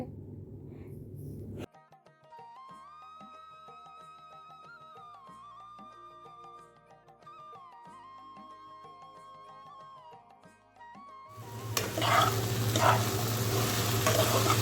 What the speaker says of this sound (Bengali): শুধু ভেন্ডি ভাজিটাই করব